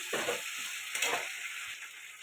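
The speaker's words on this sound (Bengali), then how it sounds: "এটা ভালো করে কষাতে থাকবো।" Onion, tomato and ginger paste with a little salt sautés in a pan, giving a steady soft sizzle broken by a few brief stirring scrapes, fairly quiet and without speech.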